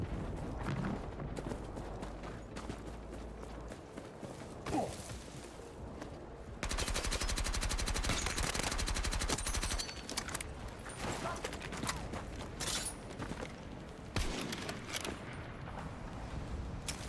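Machine gun fire in the Battlefield 6 battle royale, bursts of rapid shots with a sustained loud stretch in the middle, mixed with scattered cracks and clatter from a busy game scene, at moderate distance.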